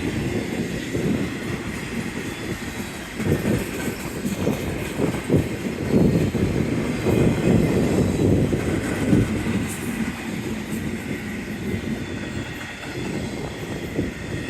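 BNSF 6591, a westbound intermodal freight train, rolls past in Kingman, Arizona, with a loud, continuous rumble and dense clattering of wheels and cars that swells in the middle and holds steady throughout.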